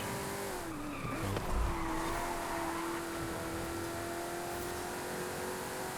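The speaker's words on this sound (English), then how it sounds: "Nice drift" A car in Forza Horizon 5 drifts through a long tyre skid, a steady high squeal over the engine's drone, rising briefly with a thump before holding on.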